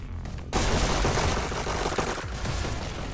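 SMG and pistol gunfire in a VR esports shooter match, a dense continuous crackle of overlapping shots that bursts in abruptly and holds steady, with a brief dip partway through.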